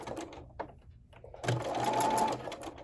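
Domestic sewing machine stitching a quilt block, a steady close whir that starts after a brief pause, with short stitching bursts at first, then a continuous run to the end.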